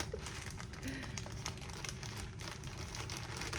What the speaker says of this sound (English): I really wish I had bigger scissors that I was cutting this plastic with.